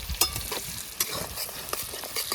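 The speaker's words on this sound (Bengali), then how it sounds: "পেঁয়াজটা শোন বেশি ভাজবো না অল্প একটু ভাজবো" Onions frying lightly in a pan outdoors by a riverside, a soft sizzle broken by a few sharp stirring clicks and scrapes, close and fairly quiet.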